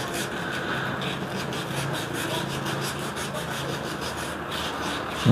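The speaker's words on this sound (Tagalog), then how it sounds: "gagamit lang tayo ng liha para matanggal itong mga dumi-dumi dito" Sandpaper rubbed back and forth by hand to scour dirt off an electric fan part near the bushing, a close, loud, steady scratchy rasp with quick regular strokes and no talk.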